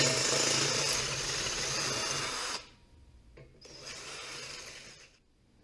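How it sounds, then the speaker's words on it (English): A tool reams out the mounting holes on a metal fuel can mount for a 3-gallon RotoPax on a WR250R motorcycle, with a close, loud grinding rasp that stops abruptly, then a shorter, quieter burst of the same rubbing whir. "I think I need to ream these holes out just a little bit to make it fit better."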